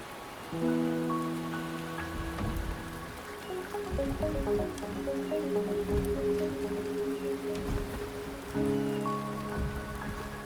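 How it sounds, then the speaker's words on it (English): Steady rain pours in the video game Wuthering Waves, a continuous hiss of drops on surfaces with layered musical tones drifting over it. "The rain is subsiding,"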